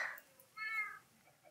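A cat meows in the Minecraft video game, one short clear mew in a quiet setting.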